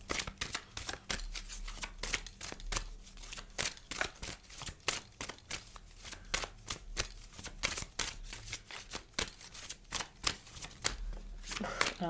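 Tarot cards are shuffled by hand again and again, a close run of quick papery riffles and taps in a fast, uneven rhythm.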